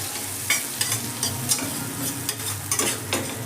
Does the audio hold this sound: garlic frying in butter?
yes